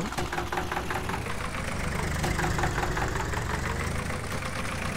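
Engine of a Zetor HMT 2511 mini tractor in Farming Simulator 18, a steady close knocking diesel drone with a rapid rhythmic clatter that holds at even loudness throughout, no talk.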